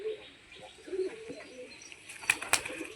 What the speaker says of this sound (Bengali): পায়রাগুলো দেখেন